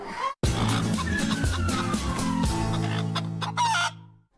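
Chickens cluck and squawk continuously over a steady low engine-like drone, with a brief cut near the start and busy, overlapping calls throughout.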